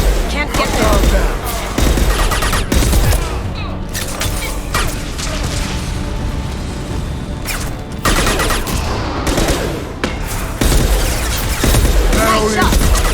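Rapid, dense gunfire bursts from a Mass Effect 2 firefight, close and loud, with repeated volleys and impacts pausing briefly around the middle before resuming, mixed with game effects and some talk.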